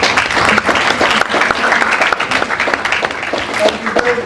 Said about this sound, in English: I really do applaud you for that.